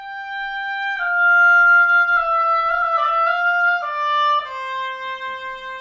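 An oboe plays a middle school lyrical etude slowly and evenly: a clean, reedy solo line of sustained notes that steps between pitches. It is close and alone, with no accompaniment.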